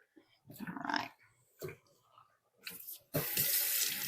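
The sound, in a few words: rinsing milking machine parts under a faucet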